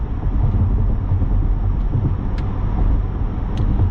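Steady low engine rumble and road noise from a 2021 Chevrolet Corvette Z51 while driving, heard from inside the cabin as a constant drone with a few faint clicks.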